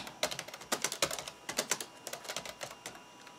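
Brisk, irregular typing on the deep-travel keyboard of a vintage IBM ThinkPad 760XL laptop, a run of close, crisp key clacks with no voices.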